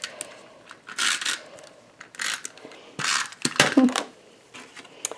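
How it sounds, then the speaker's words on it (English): A Snail adhesive tape runner applied to a paper card gives several short ratcheting, rasping bursts with small clicks between them, close and fairly loud, each stroke lasting about half a second. "we're going to attach this with snail on the inside of the card"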